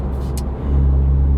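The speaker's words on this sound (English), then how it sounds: "And now with the hissing sounds, the car is even more fun to drive." A MINI F56 John Cooper Works with stock engine tune, its engine droning loudly and close, a sharp turbo hiss bursting briefly before the revs rise and settle into a steady heavy rumble.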